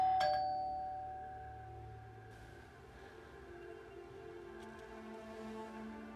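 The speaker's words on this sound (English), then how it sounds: "and then the doorbell rings." Doorbell ringing in a sitcom-styled home scene, a single bright chime at the start that rings out and decays under a faint, low background hum.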